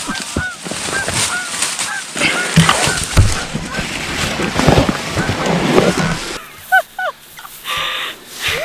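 Geese honk repeatedly during a goose hunt, with loud calls through a busy stretch of shouting and movement, then a few clearer honks near the end, while several people talk and laugh.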